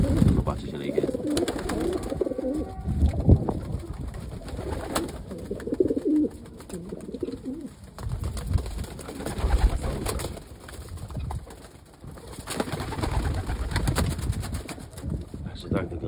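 Soft, low cooing of white homing pigeons rising and falling in bursts, close by, with occasional rustling and shuffling between calls.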